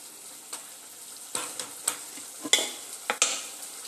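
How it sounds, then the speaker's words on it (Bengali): Fried chicken tikka pieces are gently stirred into gravy in a pan, with a few soft scrapes and spoon knocks over a quiet simmering sizzle and no talking. "হালকা হাতে নাড়াচাড়া দেব।"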